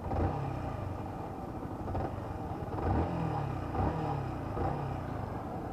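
A Yamaha Xabre 150cc motorcycle engine idles and revs in quick rises and falls, a low rumbling throb repeating every second or so, moderately close and without talk.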